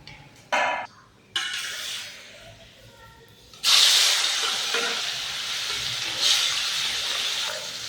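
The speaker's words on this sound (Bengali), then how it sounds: "কত ভালো ভাজা হচ্ছে।" Fish fries in oil in a pan, sizzling and hissing steadily after a few short bursts of spattering, the frying noise loud and constant.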